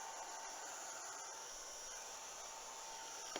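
A hair dryer runs steadily on a mixed media craft project, drying archival ink, with a continuous close whooshing hiss that holds at the same level throughout.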